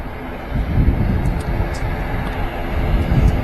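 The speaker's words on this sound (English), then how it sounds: "Singapore flight 52 off to Houston" A Singapore Airlines jet departing Manchester Airport gives off a steady, broad engine roar, loud and sustained with slight swells, as if heard from nearby outdoors with wind on the microphone.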